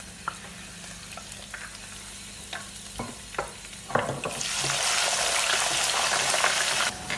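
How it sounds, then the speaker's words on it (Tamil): Onions and green chillies fry in hot oil for noodles, a steady close sizzle with scattered stirring clicks that swells into a loud, dense hiss in the second half. "பார்த்தீங்கன்னா வெங்காயம் பச்சை மிளகாயம் பொரிஞ்சிட்டு"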